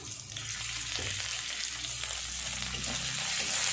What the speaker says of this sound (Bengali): এর মধ্যে পেঁয়াজ কুচি আর রসুনও দিয়ে দেব। দিয়ে সব সুন্দর করে ভাজা করে নেব।